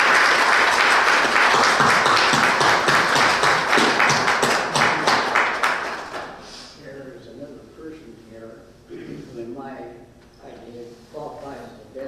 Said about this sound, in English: Could we please give our vets a round of applause?